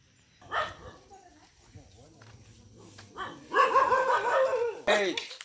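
A black puppy gives a few short yips and barks close by, mixed in with people talking and some whimpering sounds.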